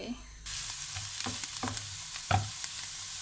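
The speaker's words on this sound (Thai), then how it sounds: "ใส่น้ำมันลงไป" Oil poured into a hot pan for a wild garlic omelette bursts into a loud, steady sizzle, with several brief scraping knocks over the frying.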